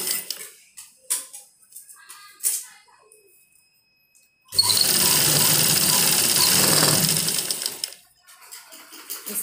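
A sewing machine runs a steady stitch for about three and a half seconds along a folded fabric strip for a drawstring, a loud, even mechanical whir that follows soft handling sounds and then stops.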